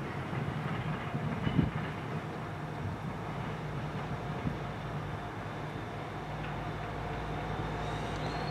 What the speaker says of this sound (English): just coming in now is the 1856 over trains, rail service to Manchester Piccadilly.